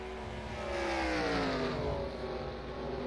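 Stock race cars from a racing video game at the Rockingham oval come through turns three and four on the final lap, engine tones sweeping down in pitch as they rush by, loud and continuous.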